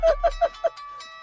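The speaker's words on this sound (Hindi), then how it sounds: "सुरेश कुमार सर, शास्त्री को फोन लगाओ" A phone call ringing out: four short, clear electronic tones in quick regular succession, close and alone, then a faint low hum.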